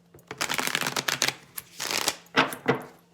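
Tarot cards are riffled and shuffled up close in quick, crisp bursts, a long flurry followed by shorter flicks and a couple of final taps.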